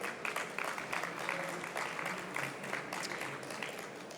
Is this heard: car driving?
no